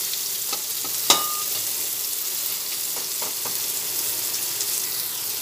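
Pumpkin pieces for a vegetarian pumpkin mash fry in hot oil with a steady, even sizzle, broken by a few light scrapes and clinks of a spatula stirring the pan, one sharper knock near the start.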